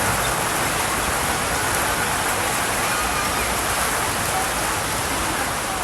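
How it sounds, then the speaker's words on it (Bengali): A sudden heavy rain comes down in a dense, steady hiss, loud and unbroken throughout, and no voices can be heard over it. "হঠাৎ করে বৃষ্টি আসলো, অনেক শান্তি পাচ্ছি"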